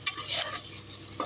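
Chicken pieces frying for a pepper chicken fry with ginger, garlic, cinnamon and cloves, close up and steady, a continuous crackling sizzle broken by short scrapes of a spoon stirring in the pan, no voices.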